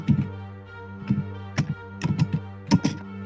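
Bursts of keyboard typing, clusters of quick taps separated by short pauses, close and fairly loud with no talking.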